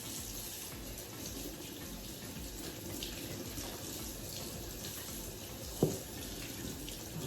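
Tap water runs steadily into a sink while makeup brushes are rinsed, a close, continuous splashing hiss with a single brief knock partway through and no voices.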